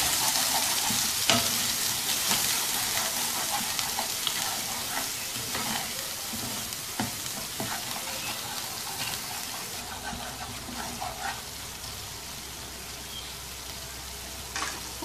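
Spices such as salt, turmeric and red chili powder sizzle and fry in a hot pan while a utensil stirs and scrapes through them for potato peas curry, a steady close frying hiss with intermittent stirring scrapes.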